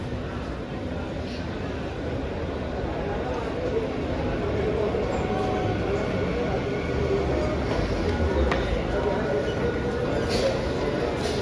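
A Mumbai local train running through Byculla railway station, a steady loud rumble and rolling of wheels on track lasting throughout, with faint voices in the background.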